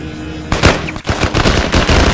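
Gunfire in the S.T.A.L.K.E.R. video game: loud, rapid bursts of shots crack out in quick succession, close and dense, with no talking.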